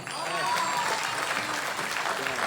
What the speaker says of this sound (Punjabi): ਇੱਕ ਤਾੜੀ ਮਾਰੋ ਆਪੋ ਆਪਣੀ ਮਾਂ ਵਾਸਤੇ